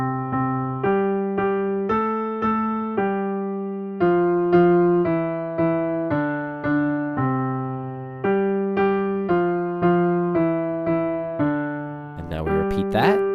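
Solo piano plays the simple melody of Twinkle, Twinkle, Little Star slowly and clearly, each note struck evenly and left to ring, with a brief noisy burst at the very end.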